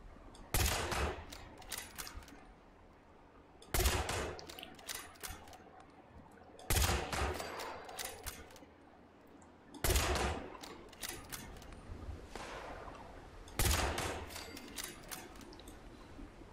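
Bursts of gunfire in Fallout 76, four or five sharp clusters of rapid shots spaced a few seconds apart, loud and close, with quieter clatter between them.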